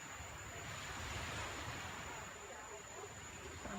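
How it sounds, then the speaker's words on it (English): Small brackish creek emptying into the ocean with waves, heard as a faint, continuous wash of surf and water noise at a distance, steady throughout with no clear breaks. "This area is by a little creek of brackish water that dumps out into the ocean, which you can hear in the background."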